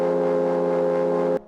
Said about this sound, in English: We have this low chord, which sounds like this.